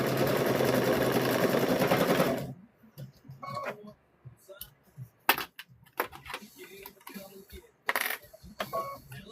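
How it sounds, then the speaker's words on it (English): A sewing machine runs in a steady, rapid burst while stitching quilt squares together, then stops abruptly. Scattered clicks, knocks and handling noises follow. "Okay, so we're sewing down this side."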